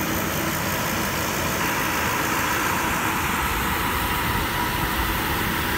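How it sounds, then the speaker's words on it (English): The fan and compressor motor of an RV rooftop air conditioner, low on refrigerant, runs as a loud, steady broadband drone and rumble, close and continuous, with no voices over it. "Ah, the motor makes noise."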